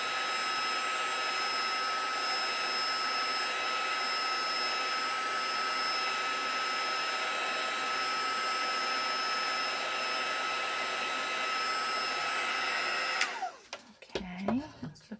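A heat tool blows steadily over distress inks on a craft surface, a loud, unbroken whooshing roar that cuts off abruptly near the end, leaving brief handling clatter.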